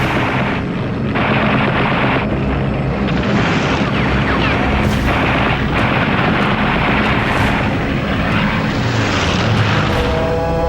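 WWII fighter aircraft engines drone loudly and continuously in flight, a dense roar with scattered sharper bangs mixed in.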